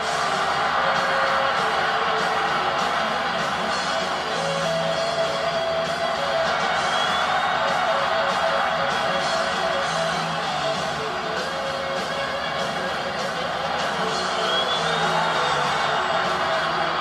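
Steady wall of crowd noise from a WWE wrestling video game arena as Fit Finlay makes his entrance, with dense cheering and occasional whoops holding loud and unbroken throughout.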